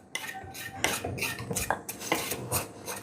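Turmeric and garam masala powders being heated and stirred in a pan for a Kerala-style potato curry, close spoon scrapes and metallic clinks against the pan in an irregular rhythm, with a faint sizzle beneath.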